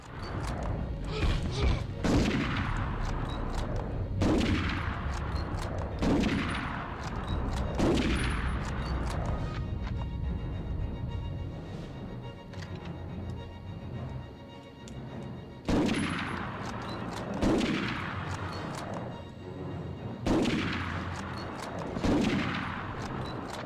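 Repeated gunfire rings out in GTA Vice City, a series of loud sharp shots in bursts at steady intervals, each followed by a short ringing decay, over background game noise.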